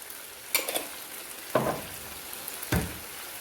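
Chicken being stirred in a pan for a beer BBQ chicken dish: three short scraping, sizzling strokes spaced about a second apart over a faint, steady background hiss, with no talking.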